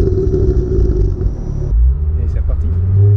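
A Ford Focus RS MK2 rally car rated at 349 hp and 519 Nm, its engine rumbling loudly and close, with the tone shifting partway through as it moves off. Voices talk over it.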